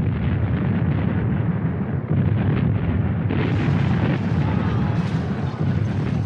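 A heavy WWI artillery bombardment rumbles as a dense, continuous roar of overlapping explosions, loud and low-pitched throughout with no pauses, heard alone.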